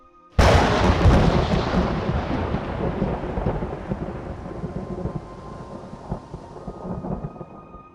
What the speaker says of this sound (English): The thunder cracked so loud Patrick could hear it over the clatter of the stagecoach's wheels.